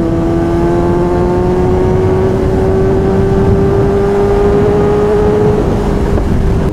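A Kawasaki ZH2 motorcycle engine revs hard while riding, rising steadily in pitch toward the redline in one continuous loud drone mixed with wind rush.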